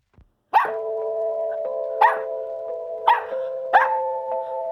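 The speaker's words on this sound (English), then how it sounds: "hi, doggy." A dog barks from a video game, a short sharp bark repeated four times at roughly one-second intervals, each followed by a sustained ringing tone, loud and close with no talking.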